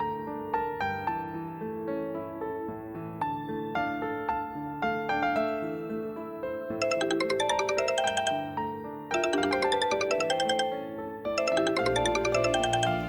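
Phone ringtone playing a repeating bright chiming melody, with bursts of denser bell-like tones recurring in cycles, clear and prominent with no voices over it.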